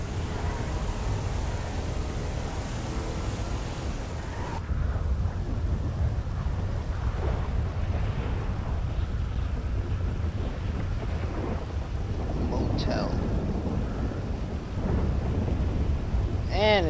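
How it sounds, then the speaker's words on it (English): Steady rain with rolling thunder in the video game Grand Theft Auto V, a constant wash of noise with deep rumbles swelling throughout, heard without talk. "It's raining."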